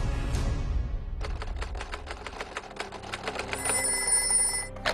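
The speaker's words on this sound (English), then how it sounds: "Each day, the phone rings frequently in Edward Little's office." A telephone in an office rings with a rapid mechanical bell trill, a long burst of close, loud clattering rings with no talk.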